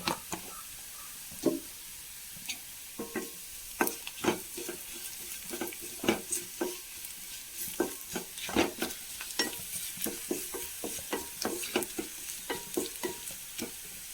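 Onion with chili powder sizzles and fries in a pan for Kerala dahi baingan, a steady crackling hiss broken by frequent sharp clicks and knocks of stirring, close and continuous with no talk.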